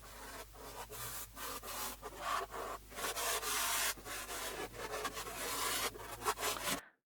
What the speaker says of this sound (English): I can now start sanding all of the surfaces so they feel nice and are smooth to the touch.